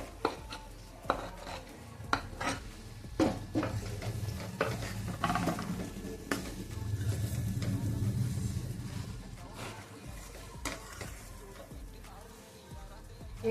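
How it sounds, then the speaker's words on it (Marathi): Paneer cubes being stirred and sautéed in a spinach gravy in a pan, with scraping spoon strokes and clinks against the cookware over a low, steady bubbling simmer. "एक ते 2 मिनिटं याला पनीरला ग्रेव्हीमध्ये छान असं परतून घेऊया"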